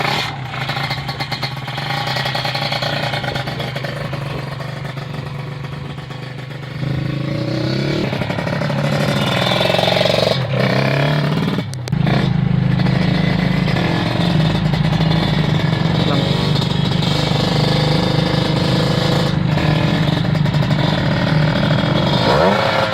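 Motorcycle engine running steadily while riding, loud and close, rising in pitch around the midpoint as the bike revs and accelerates, with a constant droning rumble throughout.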